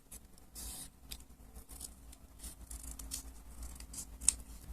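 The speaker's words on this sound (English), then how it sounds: "use your scissors to cut off the extras" Scissors snip through excess paper in short, crisp repeated cuts while a paper Sonic the Hedgehog figure is being made, close and fairly quiet, with no talking.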